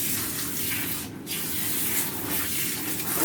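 A water sprayer rinses shampoo from a dog during a bath, a continuous close hissing spray with one brief break midway and a slight change in tone as it moves over the coat, with no talking.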